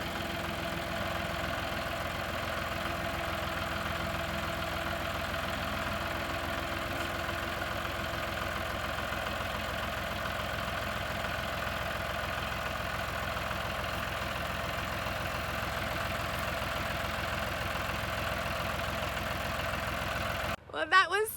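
A farm tractor engine idles in a steady, even drone that holds for about twenty seconds, then gives way to a brief burst of louder noise at the end.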